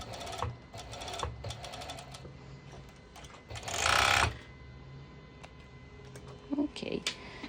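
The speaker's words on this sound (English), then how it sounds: "here I am going to my cover stitch" A cover stitch sewing machine stitches a sporty top's fabric, running in short mechanical bursts with one louder, longer run in the middle, while a voice talks over parts of the clip.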